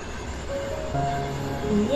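Rumble and rattle of a moving train, with a faint tonal whine from the wheels and voices murmuring in the background.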